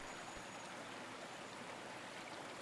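A gentle creek flows with a soft, continuous watery rush, steady and fairly faint, with no voices or other sounds over it.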